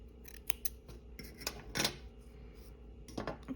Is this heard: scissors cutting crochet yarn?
yes